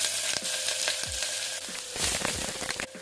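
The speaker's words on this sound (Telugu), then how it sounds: "నెయ్యి కాస్త వేడయిన తర్వాత ఇందులో ఉల్లిపాయ ముక్కలు వేసుకోవాలండి." Onion pieces fry in hot ghee inside a pressure cooker, giving a loud, continuous crackling sizzle with scattered sharp pops and a few stirring scrapes.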